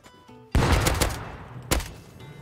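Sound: MLRS rocket barrage in Rust video game

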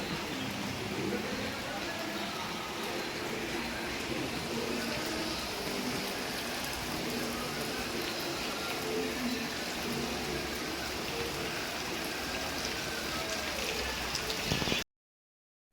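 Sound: heavy rain outside

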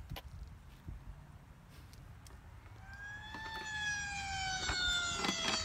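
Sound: police siren

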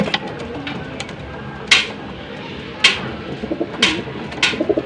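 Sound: racing pigeons cooing after returning home

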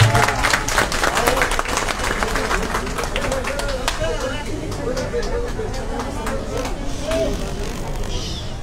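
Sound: crowd applauding for a mayoral candidate

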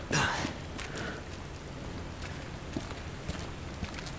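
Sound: rain falling in Resident Evil 2 Remake video game

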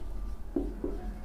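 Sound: writing on a board during a lesson

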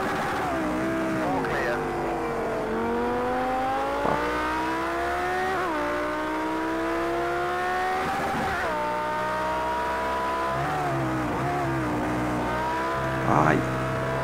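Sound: Lamborghini Huracan engine in Project Cars 2 video game

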